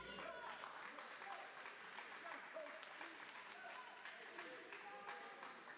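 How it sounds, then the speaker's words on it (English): A basketball crowd in a gym claps steadily for a coach mopping sweat off the court during a Bible college tournament game between Dayspring and Patrick Henry, with dense continuous applause and faint voices underneath. "Dayspring clapping for their very own coach who came down with the mop."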